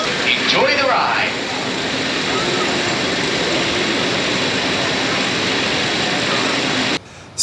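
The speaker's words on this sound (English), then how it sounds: "Steeplechase is a very unique 3-tracked steel roller coaster" Steeplechase, a three-track steel roller coaster, roars steadily with a broad rushing rumble for several seconds, then cuts off abruptly near the end.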